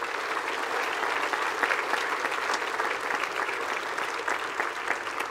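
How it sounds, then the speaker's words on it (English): At an academy prize day, the audience gives academic prize winners one last round of applause: a broad, even wash of many hands clapping, sustained and slightly distant throughout. "One last round of applause, please"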